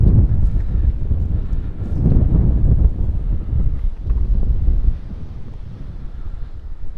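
Steady breezy wind buffets the microphone on the coast at La Santa, Lanzarote, a continuous low rumbling roar with gusts, loud and close throughout with no speech.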